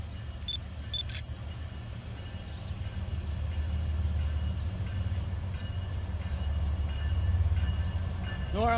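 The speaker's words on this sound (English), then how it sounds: "first train after the derailment," Freight train passing a derailment scene in Chatham, New York at restricted speed: a low steady rumble with faint wheel clicks, building slightly over time, with a few camera shutter clicks at the start.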